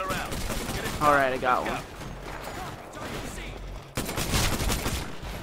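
Weapon fire in Titanfall, a cluster of sharp shots and game effects around the middle and again near the end, with someone talking over it.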